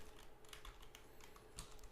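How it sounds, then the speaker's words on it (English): Fairly quiet computer keyboard typing during a small-business NAS planning session, a loose run of soft key taps over a steady background hum with no talking. "it's hard for me to type because I got shit in front of my keyboard"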